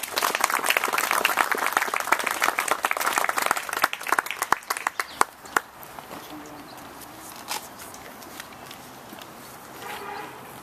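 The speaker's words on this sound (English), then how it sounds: "I'd like to go ahead and offer a round of applause for Mike Ruhl and Ruhl Landscape." An outdoor ceremony crowd for a collective poem reading claps in a thick burst that thins into scattered single claps after about four seconds, then fades to quiet ambience with faint distant sounds.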